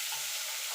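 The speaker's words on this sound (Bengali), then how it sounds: "একটুখানি নাড়াচাড়া করে নেব, মানে একদম কড়া করে ভাজবো না" Vegetables stir-fried in a pan for egg chowmein, a brief bright sizzle with a scrape of stirring, close and even.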